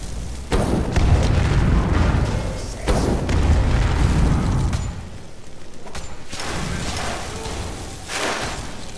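Fireball spell explosions in the Skyrim video game: several heavy, rumbling booms burst out one after another, each decaying into a lingering roar before the next blast.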